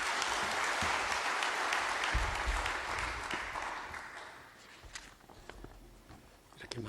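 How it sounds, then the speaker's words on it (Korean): Audience applause fills a church policy seminar hall as a pastor walks up to the stage, fading gradually amid footsteps and murmuring voices. "나오실 때 박수로 환영하겠습니다."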